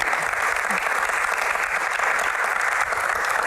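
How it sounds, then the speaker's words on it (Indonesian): An audience claps steadily through a Q&A event in Indonesia on hajj oversight, a dense, even wash of applause that holds at a constant level from start to finish with no speech over it. "Tepuk tangan dulu."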